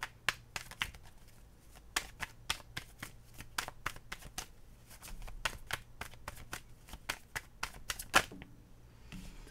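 Tarot cards are shuffled by hand in a quiet room, giving a quick series of soft, crisp riffling clicks and slaps in an uneven rhythm.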